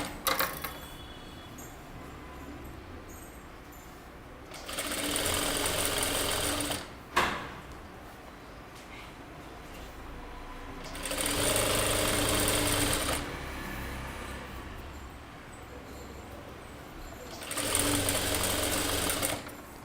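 A sewing machine hems a kurta lining in three separate stitching bursts, each a loud, fast mechanical whir lasting a few seconds, with quiet handling noises in between.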